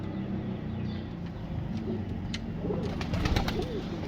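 Pigeons cooing close by, soft repeated low calls over a constant background hum, growing a little louder toward the end with a few brighter chirps.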